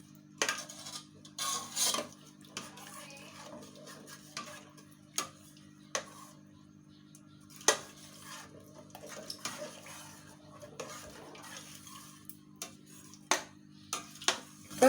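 Spoon scraping and clinking against a pot while fish curry is stirred, Madurai style, heard as scattered irregular taps and scrapes over a steady low stove hum, fairly faint.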